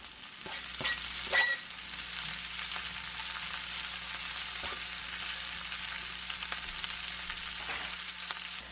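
Cabbage fries in a pan with a steady, gentle sizzle, broken by a few louder crackles and pops near the start and again toward the end, with no talking.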